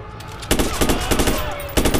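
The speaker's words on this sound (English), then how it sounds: "I've heard shots." Gunfire in the video game Watch Dogs comes as loud close bursts of rapid shots, three or four sharp volleys spaced across a couple of seconds.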